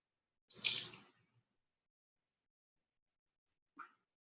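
A half teaspoon of liquid aminos poured into a blender makes one short, close splashing trickle, followed by silence and a single faint drip near the end, with no talking.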